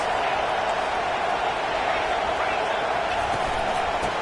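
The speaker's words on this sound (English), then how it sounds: "This crowd trying to make life miserable for this offense." A football stadium crowd at a South Carolina game roars in a dense, sustained wall of noise, loud and unbroken throughout.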